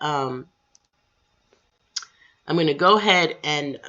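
A computer mouse clicks faintly a few times in a gap between stretches of nearby speech while someone works in a SharePoint app.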